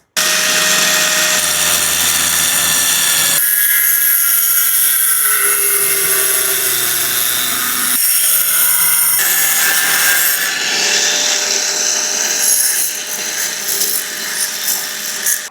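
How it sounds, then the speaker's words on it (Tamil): A DIY cut-off machine slicing through a long metal rod makes a loud, continuous grinding whine that shifts pitch as the blade bites deeper, close by and steady for the whole stretch. "எப்படி கட் பண்ணுதுன்னு கட் பண்ணி பார்ப்போம்"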